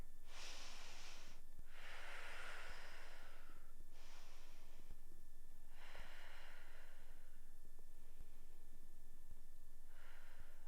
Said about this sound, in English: Let's give it 3 breaths here